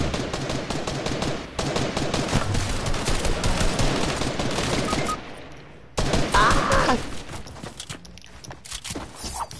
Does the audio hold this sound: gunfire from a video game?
yes